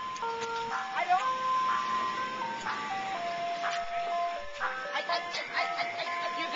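An ice cream truck plays its tinkling chime melody steadily throughout, clear and moderately close, under a background hum.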